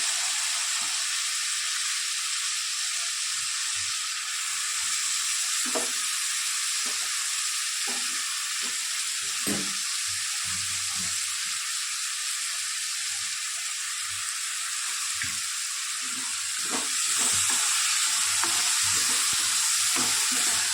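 Spinach and coriander fry in a pan while being stirred, a steady close sizzle running throughout with repeated scraping stirs and no talk.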